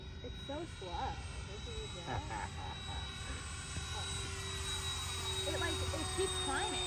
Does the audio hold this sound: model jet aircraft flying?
yes